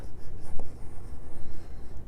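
A pencil moves freely across paper while sketching an iris flower, making a steady, close scratchy rasp with uneven strokes that runs continuously without pauses.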